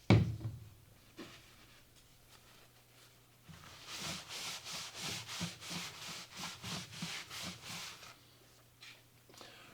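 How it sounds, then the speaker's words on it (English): An orbital sander working over a pipe surface before a PVC, HDPE or steel pipe repair: a quiet start, then about a dozen rhythmic, rasping back-and-forth passes, close and steady, fading at the end. "an orbital sander, any type of sander"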